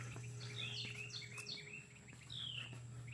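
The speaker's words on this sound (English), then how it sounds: "Birds are chirping." Several birds chirp outdoors on a hot day in the Western North Carolina mountains near Hot Springs, with short, quick tweets repeating at uneven intervals over a faint low hum and insect buzz, and nobody talking.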